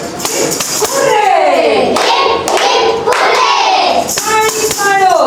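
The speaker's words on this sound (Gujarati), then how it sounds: "તાળી પાડો." Children clapping along during a Panchatantra storytelling session, rhythmic group hand claps mixed with loud chanting and excited voices.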